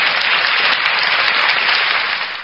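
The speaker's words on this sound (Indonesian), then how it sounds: "Nah, tepuk tangan buat Oten." Loud applause from a group, a dense burst of clapping that holds steady and then tapers off at the end.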